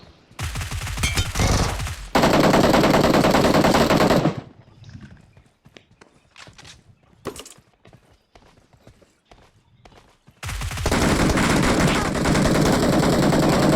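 Automatic gunfire in the battle royale video game PUBG, loud sustained bursts in two long stretches with sparser shots and quieter game sounds between.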